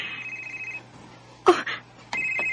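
A telephone rings in a radio drama with a steady electronic trill, then breaks off as a handset clatters and knocks, before the ringing tone returns briefly at the end.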